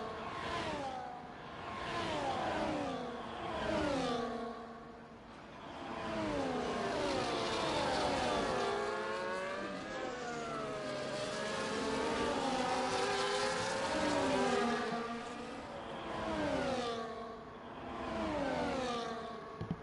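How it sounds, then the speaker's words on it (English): Formula-style race cars in an F1 racing video game at Circuit of the Americas, one overtaking another, their high engine whine sweeping up and down in pitch continuously and loudly, with no talking. "Here comes Shankadelic overtaking him."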